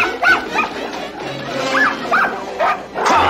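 Dogs barking during a fight scene in the Japanese dub of the animated film 101 Dalmatians, several sharp yaps and barks in quick bursts, close and loud, with some voices mixed in.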